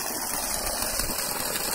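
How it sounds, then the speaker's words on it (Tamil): A borewell water pump motor on a small farmland plot, drawing water from about 20 feet, runs with a steady, continuous hum at moderate loudness, unbroken and with no voices. "இது போர் தண்ணி பார்த்தீங்கன்னா இங்கே 20 ஃபீட்டில் தண்ணி சூப்பராக தண்ணி இறைக்கும்"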